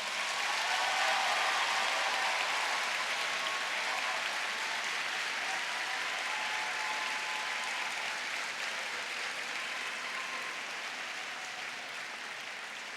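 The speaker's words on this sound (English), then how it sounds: "I'd like the graduates to give their friends, their family, their supporters that are here a rousing round of applause" Graduates at a university graduation ceremony give a sustained, rousing round of applause for their families and friends, a thick wash of clapping across a large hall that holds steady and eases off only slightly toward the end.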